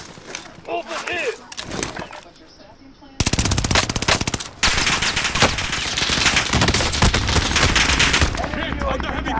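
Heavy gunfire in Call of Duty: Modern Warfare, with rapid automatic bursts and a constant loud barrage that break out after a quieter opening, while voices call out over the shooting.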